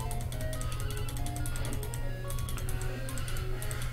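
Rapid clicking of a button being pressed during play of Dragon Warrior Monsters, a steady run of sharp taps repeating over a continuous low hum of game audio.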